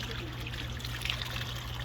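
Water poured into a pot or bowl while preparing Trinidadian fish broth, a steady soft trickle running continuously over a low background hum.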